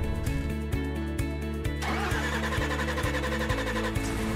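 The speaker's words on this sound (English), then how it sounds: "cover the service brake, confirm that the transmission is in neutral, and start the engine" A truck's engine is started during a pre-trip inspection with the transmission in neutral: rhythmic cranking pulses build into a catch and a steady rumbling idle, close and loud, with no talk.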